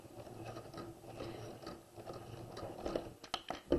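A sewing machine back-stitches a seam in fabric, giving a quiet, close mechanical whir with rapid ratcheting clicks and a few louder knocks toward the end.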